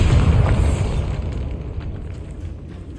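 A Bombarda spell explosion in Hogwarts Legacy, a loud deep boom with a bright burst at the start that rumbles and slowly fades over a few seconds.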